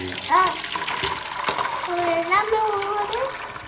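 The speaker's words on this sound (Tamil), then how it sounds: "இதில் தண்ணியெல்லாம் இந்த பாத்திரத்துக்குள்ளே இறங்கிடும்." Water pours and trickles through a colander into a vessel, a running splash while a voice talks over it.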